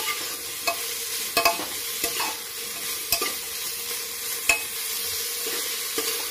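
Cauliflower pieces being sautéed in a hot pan, bright hissing sizzle throughout with occasional sharp spatula knocks and stirring scrapes, close and steady, no voices.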